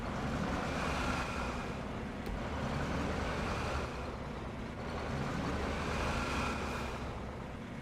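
A steady, droning small truck engine hum in a video game with a broad rushing quality, continuous throughout and gently swelling and fading, with no voices.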